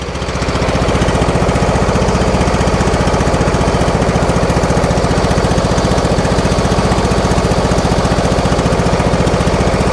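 A lawn tractor engine with a fault that makes it bog and die when the electric PTO is engaged runs loud and close, a steady throbbing putter after a brief rise at the start.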